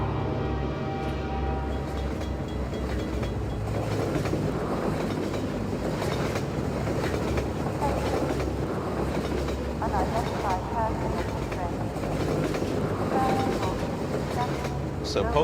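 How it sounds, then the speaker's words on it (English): A train rumbles and clatters continuously in Half-Life 2, a steady loud mechanical roar with rhythmic rail clacking and faint tonal whines, as it arrives; someone talks over it at times. "I believe we have to wait for a train to come on."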